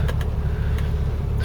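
A revived Ford Cortina Mk3 project car, left standing a long time, drives with a steady low engine drone close by, a continuous rumble without talk.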